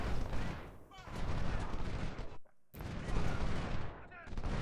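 Musket volleys crackle in the Civil War strategy game Ultimate General: Civil War, dense rolling fire that breaks off briefly into a short gap and then resumes as a sustained fusillade, with talk faintly underneath.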